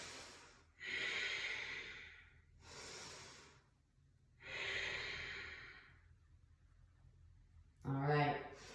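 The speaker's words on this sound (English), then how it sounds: "Deep Ujjayi breaths." Deep, audible Ujjayi breathing during a yoga flow: three long, slow hissing breaths, each a few seconds, followed by a short snorting exhale, close and fairly loud with no talk.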